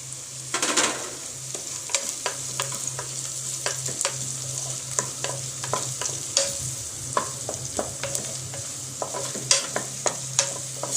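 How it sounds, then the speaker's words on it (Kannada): Chopped green chillies frying in a pan for a simple bachelor's biryani, with steady sizzling broken by frequent sharp scraping stirs of a spoon against the pan, close up and continuous, without speech. "ಈಗ ನಾನು ಹಸಿರು ಮೆಣಸಿಗೆ ಹೆಚ್ಕೊಂಡಿದ್ದನ್ನು ಹಾಕೋತಾ ಇದ್ದೀನಿ"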